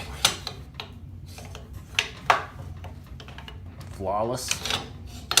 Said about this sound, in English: Now let's reinstall the bolt to ensure that it is functioning properly.